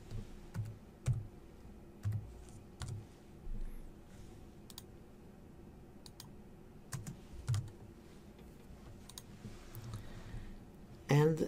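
Scattered mouse clicks on a computer while working in the Moodle online course platform, a dozen or so sharp taps at irregular intervals over quiet room tone, with faint speech in the background.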